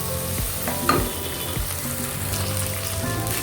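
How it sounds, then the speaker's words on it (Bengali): Ginger garlic paste frying with onion in a hot pan, a loud, steady sizzle with stirring scrapes and crackles throughout, close to the pan. "আমি এখন আদা রসুনটাকে একটু পেঁয়াজের সাথে ভেজে নেব"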